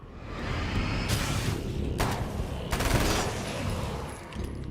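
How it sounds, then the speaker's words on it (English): Gunfire from a machine gun in the video game Alan Wake's American Nightmare: a few bursts cut through a steady rumbling game backdrop at moderate loudness, with no talking. "This is a machine gun."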